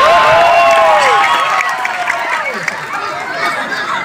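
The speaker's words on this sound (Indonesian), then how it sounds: "Tepuk tangan buat bapak-bapak." A crowd applauds and cheers at a Maulid Nabi religious gathering, with excited voices and chatter mixed into the clapping throughout.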